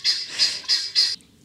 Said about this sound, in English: And I'm sorry if you hear the guinea hens behind me.